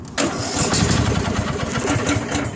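A ride-on lawn mower cranks on the key and catches, its engine starting abruptly and settling into a steady, loud running rumble close by.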